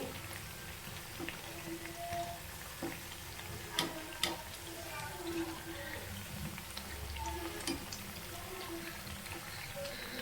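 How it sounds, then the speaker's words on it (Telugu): Black-eyed pea vadas frying in oil while being turned over, with a steady close sizzle and crackle plus scattered ticks and small clinks. "టూ సైడ్స్ తిప్పుకుంటూ వేయించుకోవాలండి."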